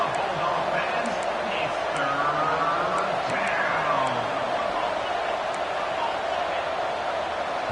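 Stadium crowd roaring steadily in a Madden football video game, a dense continuous wall of cheering at a rocking stadium on a 3rd-and-8 hurry-up, with a commentator's voice talking over it.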